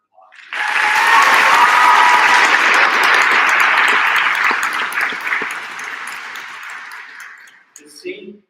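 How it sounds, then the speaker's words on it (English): Crowd applause at a university convocation ceremony, a loud sustained burst of clapping with cheers that swells quickly, then tapers off over several seconds. "So one more round of applause."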